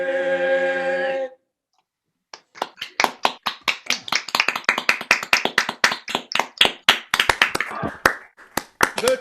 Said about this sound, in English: Virtual claps and a clap from our audience of 2.